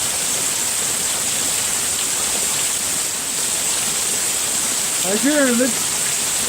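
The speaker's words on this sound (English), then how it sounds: "it is raining hard out here. You can hear it" Heavy rain pours down steadily outside during a severe thunderstorm, a dense continuous hiss throughout, with a voice briefly speaking near the end.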